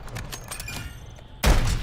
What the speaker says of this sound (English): We just had a minor explosion in...